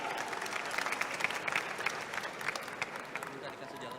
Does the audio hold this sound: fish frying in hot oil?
no